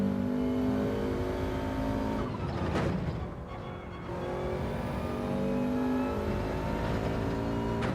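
Race car engine from Gran Turismo 7 runs continuously through the clip at steady high revs, with harmonic whine, a brief dip around a gear change or corner, then climbing again; no talk.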